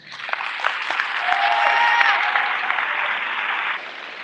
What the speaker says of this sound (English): let's welcome today's presenters with an awesome round of applause